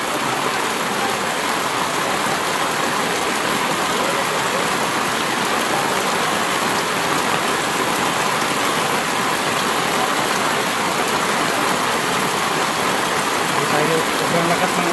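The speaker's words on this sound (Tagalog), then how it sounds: "sobrang lakas ng ulan talaga" Heavy rain pours steadily and loudly, a dense unbroken hiss of water on surfaces that keeps up without a break for the whole stretch.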